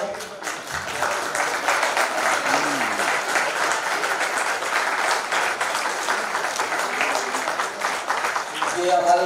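A standing audience at a Jain social group charter day celebration breaks into loud, sustained applause in welcome, dense clapping continuing steadily throughout with some crowd voices mixed in.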